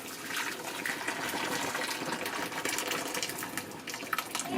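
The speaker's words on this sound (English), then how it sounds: "I'm going to drain the water from them." Water from a pot of boiled potatoes pours out in a steady, continuous gushing rush, splashing into a kitchen sink without a break and with no one speaking.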